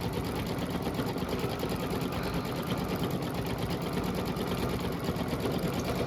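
A Babylock embroidery machine stitches a built-in Halloween design, its needle mechanism running in a steady, fast, dense mechanical rhythm that holds constant and close throughout with no pauses.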